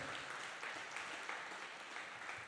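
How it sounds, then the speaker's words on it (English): Audience applause at an arts-sector mayoral forum, a dense, steady wash of many hands clapping for the whole stretch, with no voices over it. "Can we give them a round of applause for activating this space once again in such an amazing way?"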